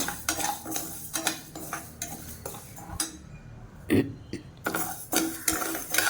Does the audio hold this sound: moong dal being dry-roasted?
yes